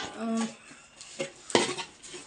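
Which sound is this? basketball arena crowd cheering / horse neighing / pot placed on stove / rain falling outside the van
pot placed on stove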